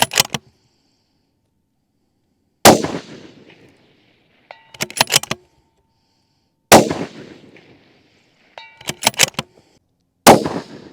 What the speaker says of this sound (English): I'm gonna see if I can land any shots on that little C-zone steel plate out there.